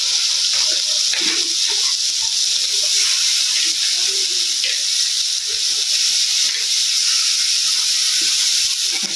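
Fish sizzles in a pan with turmeric, salt and spices, giving a steady, loud, unbroken frying hiss that carries through the whole stretch with no talk over it.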